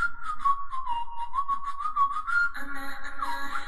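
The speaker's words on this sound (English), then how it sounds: "Didn't pay attention to that whistle at the beginning." A whistled melody opens a K-pop song. The clear, steady whistle line plays over a pulsing beat before fuller instrumentation joins.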